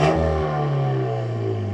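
A Renault Megane Trophy-R's 1.8-litre four-cylinder engine revs up hard in a sustained, loud roar with a deep exhaust note, steady throughout with no talking.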